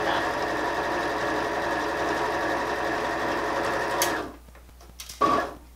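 A sewing machine stitches steadily through thick, bulky fabric layers of a Christmas stocking, a close, continuous motor whir with a fast mechanical rhythm that stops abruptly after about four seconds, followed by a quiet pause and a brief clunk.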